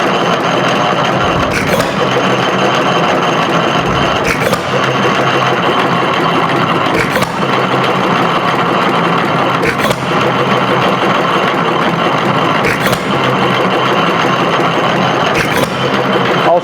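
A Macleods Nelson Brothers Model TA 1 3/4 HP hit-and-miss engine runs with a steady mechanical clatter, punctuated by sharp firing beats roughly every two to three seconds, loud and close.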